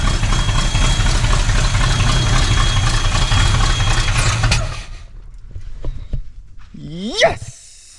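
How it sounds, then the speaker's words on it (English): Abandoned 1980s Chevrolet C10 truck engine idling loudly and roughly for several seconds before cutting out, followed by faint noises and a brief rising whine. "we're gonna let her idle a little bit longer"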